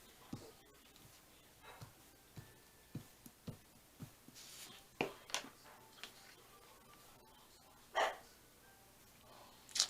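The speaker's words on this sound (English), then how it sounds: "The dog is barky barky today." A dog barks at a distance in a quiet indoor room, a scatter of faint, short barks spread irregularly over about ten seconds, with soft ticking and small handling noises nearby.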